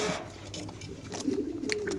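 Big pigeons at a pigeon farm give low, soft coos among faint chirps and background noise, close by.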